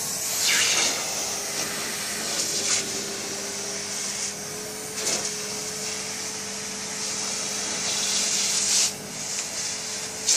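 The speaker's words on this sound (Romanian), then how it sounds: "Bineînțeles, cu ajutorul aspiratorului nostru Power Pro Expert." A Philips Power Pro Expert FC9723/09 bagless vacuum cleaner with a narrow crevice nozzle cleaning a sofa, a steady loud rushing hiss with a constant motor hum and occasional scraping sweeps.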